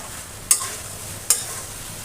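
Steady frying hiss of young jackfruit and chicken curry in oil, with two sharp scraping stirs about a second apart, close up in a pan.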